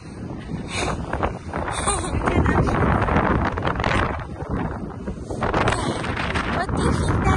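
Strong cold wind buffets outdoors by Helsinki Cathedral, a steady loud roar with microphone gusts throughout.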